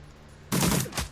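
Minigun firing in the game Shadowrun Returns: Dragonfall, a sudden loud burst of rapid rattling shots after a quiet start, cutting off within a second.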